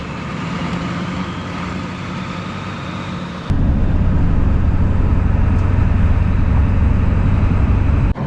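A vehicle drives along a remote backcountry road in Washington, producing a loud, steady engine and road rumble that grows heavier and rougher partway through and continues to the end.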